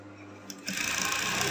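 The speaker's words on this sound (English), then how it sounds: "I'm going to sew" A sewing machine starts up and runs steadily while stitching a lace mermaid skirt, the close motor hum beginning after a short quiet moment and a click.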